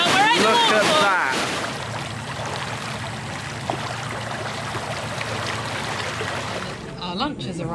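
A waterfall in the Lake District near Lake Windermere, heard on a winter trip. Water rushes steadily at moderate level, with a person talking over it at the start and again at the end.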